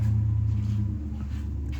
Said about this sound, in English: I can hear the neighbour's Chevelle